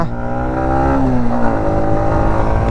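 A motorcycle engine is revved loud and close on an open hill road between Bangalore and Ooty, its steady harmonic drone climbing in pitch as the throttle opens.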